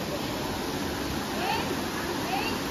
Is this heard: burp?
no